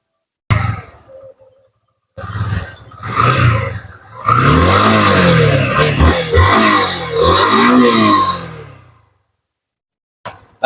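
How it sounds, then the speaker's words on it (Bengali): A Yamaha FZ motorcycle engine started and revved loudly up close in several bursts, its pitch climbing and falling through throttle blips before the engine cuts out. "আমরা এই বাইকটা সাউন্ডটা আপনাদেরকে শোনানোর চেষ্টা করব"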